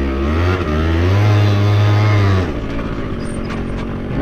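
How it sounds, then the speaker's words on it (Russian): A Honda Dio scooter engine revs hard close by in a loud, steady buzzing whine, then drops off sharply as the throttle is released, leaving a quieter idle. "насколько Дио успела раскрутить двигатель"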